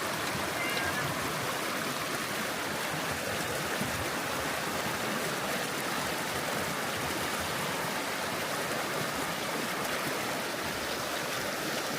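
A hiker wades through a fast mountain stream on a long-distance trail, and dense, steady rushing water surrounds the listener up close for the whole stretch.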